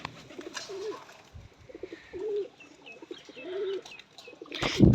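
Pigeons coo while being bathed, a series of soft rolling coos repeating close by, followed by a sudden splash-like burst at the end.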